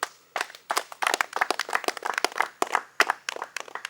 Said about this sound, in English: A round of applause for your king.